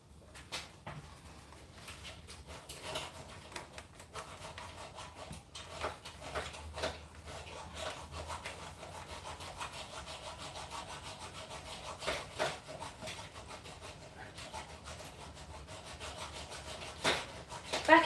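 Steel file rasping against a bicycle handlebar before new grips go on, a steady scraping rub repeated in quick strokes at close range for the whole stretch, with a sharper scrape near the end.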